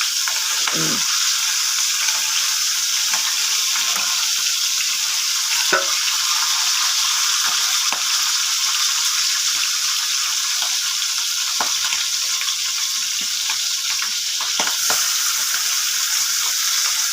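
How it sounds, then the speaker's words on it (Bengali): Fish head and green chillies fry in hot oil for a fish-head and bottle gourd dish, giving a steady close sizzle throughout with occasional soft scrapes and taps of stirring, with no voices. "লঙ্কাগুলো না ভাজা হলে না, মাছের মাথার সাথে ভাজা হোক"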